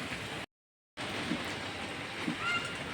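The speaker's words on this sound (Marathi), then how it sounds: "मस्त वाटतं जरा पाऊस चालू असला की" Steady rain falls outdoors on a hot day turned cool, a continuous even hiss with a brief dropout, moderately loud and without speech.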